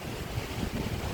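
Wind blowing hard across a microphone outdoors on a sunny day, a steady, loud, rumbling buffet with no pauses or voices.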